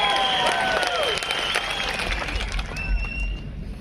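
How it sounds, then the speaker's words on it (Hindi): A crowd at a BJP election rally in Indervaal, with Amit Shah, breaks into loud, sustained applause and cheering, with whistle-like tones rising above the clapping throughout. "जोर से ताली बजाइए किन साहब"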